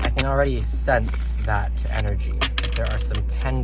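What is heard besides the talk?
No everyday noises stand out.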